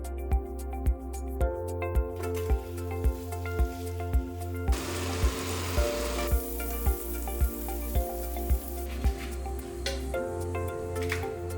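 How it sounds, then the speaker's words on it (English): About two cups of spinach fry in butter in a frying pan with a continuous close sizzle. Steady rhythmic ticks in the background repeat at an even, regular beat throughout, like music playing. "I'll cook about 2 cups of spinach in a frying pan with 2 teaspoons of butter for about 5 to 6 minutes."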